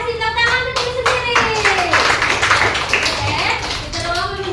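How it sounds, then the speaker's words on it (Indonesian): A group of children claps hands in a classroom, a dense patter of applause heard up close, with young voices calling out over it. "Tepuk tangan untuk sendiri."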